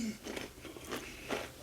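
Crunchy bites into Doritos Golden Sriracha tortilla chips, several close, soft crisp crunches and chewing spread over a moment, fairly quiet with no talk.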